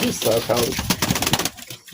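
Teddy pigeons coo in soft, throaty bursts close by, mixed with someone talking.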